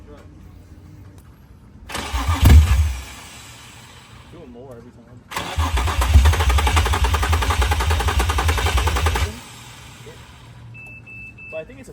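A Honda S2000 drift car's engine cranks in two long starter bursts, the first brief and the second running several seconds with a rapid rhythmic churn, close and loud, with people talking around it.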